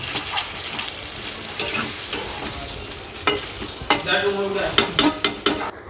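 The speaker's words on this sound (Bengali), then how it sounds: "এবার যখন কষানো হয়ে গেছে এবার জল দিয়ে দিলাম" Chicken curry masala sizzles loudly in a pan while water is added, with repeated scraping and clinking stirs growing busier toward the end, and no talking.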